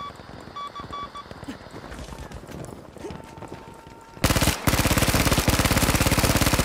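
A ZK-383 submachine gun in the video game Battlefield 5, opening with scattered game noises and distant shots before a loud, sustained burst of rapid automatic fire close up for the last couple of seconds.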